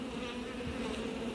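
A honeybee swarm being hived, with bees settled on the ground, gives off a steady, dense buzzing drone that holds level and close throughout, with no voices.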